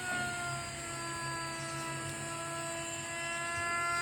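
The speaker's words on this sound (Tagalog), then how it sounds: "Gumamit po kami ng router para madali na lang linisan." A power router cleaning up the handle of a homemade 50 cm speargun, running as a steady high whine with strong tonal harmonics and a grinding buzz underneath, loud, close and continuous throughout.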